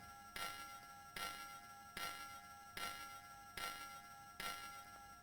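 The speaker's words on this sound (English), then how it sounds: "we'll get them spinning, we'll ring the bells" Bells ring in the 1992 DOS and Amiga strategy game Storm Master, six evenly spaced metallic clangs with ringing tails, quiet and with no voices.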